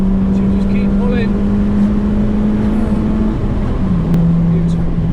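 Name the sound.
tuned Ford Fiesta ST500 engine accelerating hard in second gear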